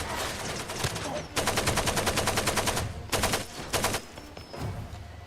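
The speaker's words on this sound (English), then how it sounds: "Use the AK." AK rifle fire in a video game: rapid automatic bursts, with a long sustained volley and several shorter strings, loud and close, over a steady low background rumble.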